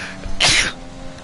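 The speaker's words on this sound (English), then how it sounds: "Excuse me, I just sneezed." A single sharp sneeze from one person bursts out in the middle of the clip, loud and close, with quiet room tone before and after.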